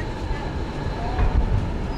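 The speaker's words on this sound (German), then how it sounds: "Bei der Lok handelt es sich um eine elektrische Grubenlok EL3." An EL3 electric mine locomotive runs on the narrow-gauge coal railway at Meuselwitz, a steady loud rumble of wheels and motor with a slight swell midway and faint squeal, continuous and close, without talking.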